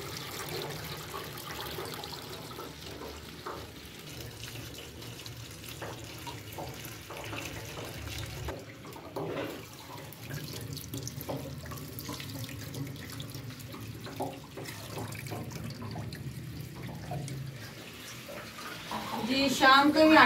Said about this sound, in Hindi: अच्छी तरह मेथी मैं धो रही हूँ